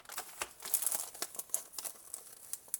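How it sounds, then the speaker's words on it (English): Pretty wrapping paper on a small gift bundle crinkles and crumples close up in quick irregular bursts, with sharp crackly rustles and brief tearing-like scrapes, no voices. "This pretty wrapping paper."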